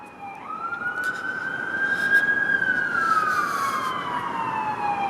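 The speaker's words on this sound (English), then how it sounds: "it's not really downtown Toronto without a friggin' siren" An emergency vehicle siren in downtown Toronto afternoon rush-hour traffic on University Avenue, a loud wailing tone rising and then slowly falling, close by over a steady bed of city traffic noise.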